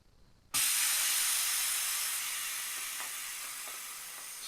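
Air bursts out of a Harbor Freight wheel being modified for a robot: a sudden loud, close hiss starts abruptly after a brief quiet moment, then holds and slowly fades.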